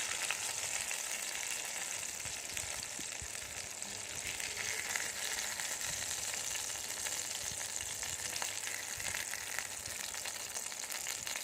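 Hilsa fish pieces frying in hot oil, a steady continuous sizzle with fine crackling that holds at an even level throughout, close and without any talking.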